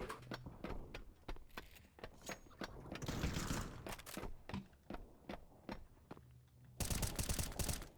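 Rapid bursts of automatic gunfire from Counter Strike 2 played on an LCD Steam Deck, sharp repeated shots in quick rhythm with a denser volley near the end, loud and with no talking.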